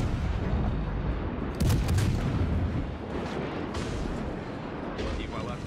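Heavy naval gun fire from a cruiser in World of Warships, rumbling booms and blasts layered densely over a continuous low battle roar, with a person talking over it throughout.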